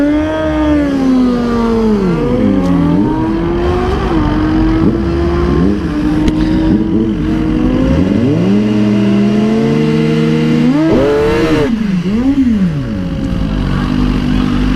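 A 2021 Suzuki GSX-R 1000 sportbike holds a loud, sustained burnout at a track, its engine screaming and wavering in pitch as the throttle rises and dips, close and continuous.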